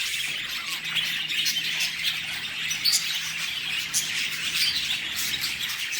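Many caged birds in a large bird store chirp and squawk together, a busy nearby chatter with sharper calls popping out now and then, and no voices.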